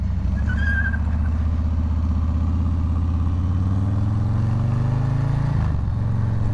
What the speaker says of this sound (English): I definitely want to feel the power of the 114 Milwaukee 8.